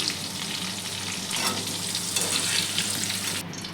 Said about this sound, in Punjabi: ਚੰਗੀ ਤਰ੍ਹਾਂ ਫਰਾਈ ਕਰਨੇ ਆ ਜੀ